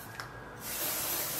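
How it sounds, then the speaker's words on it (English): Apple and white tea Dove deodorant sprays from an aerosol can in one steady, close hiss that starts after a brief quiet moment. "And then I just spray it on like that"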